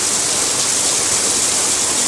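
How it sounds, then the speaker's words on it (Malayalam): Very heavy rain pours down as a loud, dense, unbroken roar of water, with no voices heard. "അതിശക്തമായിട്ട് മഴയാണ് പെരും മഴ വരുന്നുണ്ട്"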